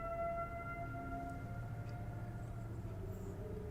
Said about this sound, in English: that sounded like a siren right there.